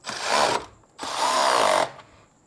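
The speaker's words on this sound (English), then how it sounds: "Do up these hose clamps." Two short bursts of a power tool whirring close up, each rising and holding about a second, as hose clamps are tightened on the air intake of a Nissan Skyline R34.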